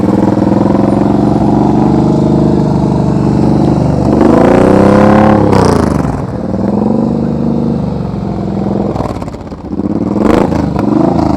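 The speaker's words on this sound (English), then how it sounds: "Got to keep that motorcycle throttled." A motorcycle engine held on the throttle during slow-speed riding practice, a steady loud drone with revs rising and falling through the clip and brief dips where the throttle eases.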